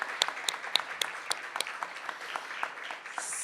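A small audience claps, with sparse individual claps ringing out close by and no one speaking.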